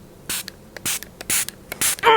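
Four quick bursts from a spray bottle misting liquid during an at-home underarm waxing, close and crisp, each spritz short and separated by brief pauses.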